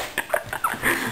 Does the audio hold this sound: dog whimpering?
yes